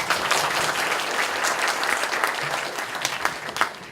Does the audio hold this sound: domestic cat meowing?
no